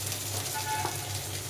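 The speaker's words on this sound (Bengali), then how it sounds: "আলু আর গাঁঠি কচুটাকে একদম লাল করে ভেজে নিয়েছি" Potato and taro pieces fry together in hot oil, giving a steady, even sizzle with a faint low hum underneath and no talking.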